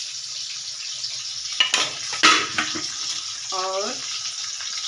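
Onions fry toward golden brown in a pan for aloo anday, a soft steady sizzle with a few sharp clatters of stirring and a brief voice near the end.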